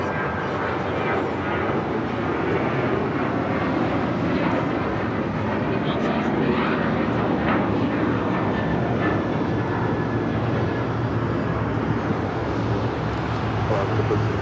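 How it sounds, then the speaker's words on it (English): An Alaska Airlines Boeing 737 MAX 9 jet at Los Angeles airport gives a steady, broad engine roar that holds evenly throughout, heard from a distance with faint radio chatter underneath. "Alaska Airlines Flight 1364 heading to Cancun, Mexico, 737 MAX 9"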